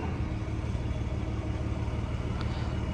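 A 3rd-gen Cummins diesel engine with a cooling system failure idles steadily, with the cooling fan running as a constant, even rumble and whoosh, close and unbroken.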